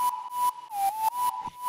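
A synthesized whistle lead for future bass, built from a sine wave with white noise layered over it, plays a short melodic phrase of clear pure notes with a soft breathy hiss, sliding slightly between pitches.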